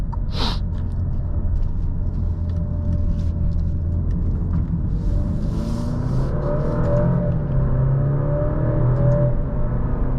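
A 2023 Alfa Romeo Giulia Veloce engine hums steadily from inside the cabin, then rises in pitch as the car accelerates, under a constant low road rumble with no voices.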